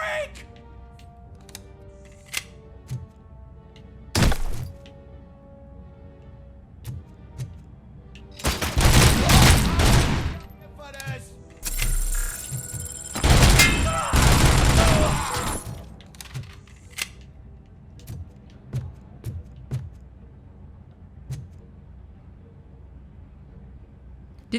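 Gunfire in the video game RoboCop: Rogue City comes in scattered single shots and then two dense bursts of rapid automatic fire over a quiet background.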